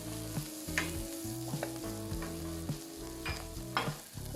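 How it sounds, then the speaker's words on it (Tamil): Onions sauté for pineapple curry in a pan, a close, steady sizzle with a few soft stirring scrapes, alone and fairly quiet, with a faint musical tone running underneath. "இந்த வெங்காயம் கொஞ்சம் வதங்கணும்."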